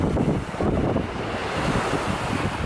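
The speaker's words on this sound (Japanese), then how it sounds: "穏やかな波だよね" Gentle ocean waves wash onto Zushi beach in calm weather, making a continuous soft rush of surf with some breezy rumble on the microphone and no voices.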